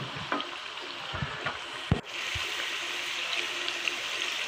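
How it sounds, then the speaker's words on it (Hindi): Chicken karahi masala and meat roasting (bhuna) in a pan, a steady sizzle with occasional sharp spoon-on-pan knocks and stirring scrapes, close and fairly loud. "अब इसको ज़रा भूनना है थोड़ी देर।"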